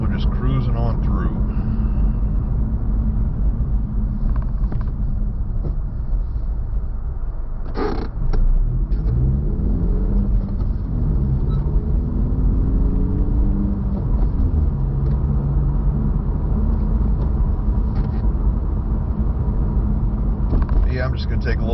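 A car rolls slowly along icy streets past a darkened traffic light in frozen-over Baton Rouge, Louisiana, its low engine and tire rumble steady throughout, with a voice talking over it and a brief sharper knock near the middle.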